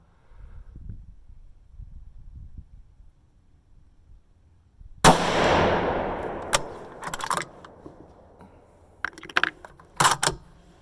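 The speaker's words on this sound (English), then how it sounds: "this powder is loud out of this gun with this brake on it" Quiet low rumble, then a single sharp, loud shot from a 6.5 Grendel Ruger American Predator rifle with a muzzle brake cracks out with a ringing decay, followed by metallic clicks and clatter from handling.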